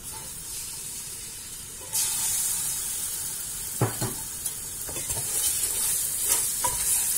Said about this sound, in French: je vais rajouter l'oignon, les gousses d'ail et ma viande